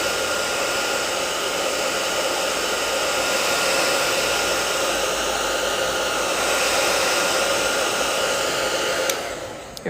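A hair dryer blows steadily over a wet watercolor painting, a loud, constant close roar with slight shifts in pitch, cut off with a click at the end.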